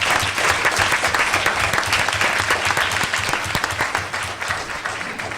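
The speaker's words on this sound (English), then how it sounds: "If we can give him another round of applause." Audience at a town board meeting applauding the Spring Valley NAACP chapter president, dense, loud, continuous clapping close by with no talk.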